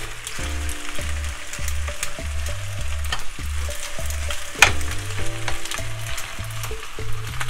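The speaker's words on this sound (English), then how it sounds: "we're just going to add the beef to the center because what we really need to do is just to warm it up" Corned beef sizzles and fries steadily in a pan for a Jamaican-style pasta, with a continuous close crackle and occasional stirring scrapes throughout.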